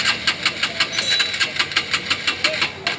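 A Honda 150cc motorcycle engine that has died on the road cranks repeatedly without catching, giving a rapid string of rhythmic mechanical pulses at close range with no steady idle following.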